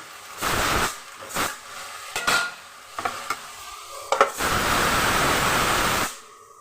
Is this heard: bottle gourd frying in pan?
yes